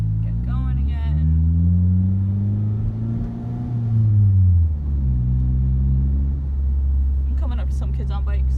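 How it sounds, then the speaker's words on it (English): A manual-transmission car pulls away from a stop, its engine rising in pitch through the gear, easing off, then climbing again, loud and steady with no talk over it. "I'm gonna clutch in, second, give it gas, let off."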